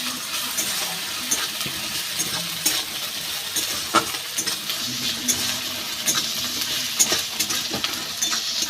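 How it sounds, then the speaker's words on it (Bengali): Onion with ginger and garlic paste frying in oil, a bright continuous sizzle with scattered scrapes and taps of a spoon stirring the pan, close and steady, no one speaking. "আদা রসুন বাটা, আদা রসুন পেঁয়াজ আবার ভালো করে ভেজে নেব।"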